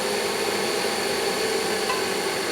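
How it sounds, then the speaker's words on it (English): A gear from a 1965 Harley-Davidson panhead four-speed transmission is ground against a spinning disc, giving a loud, continuous abrasive hiss and whine that stays steady throughout. "rotate the gear as you grind it because it doesn't cut evenly"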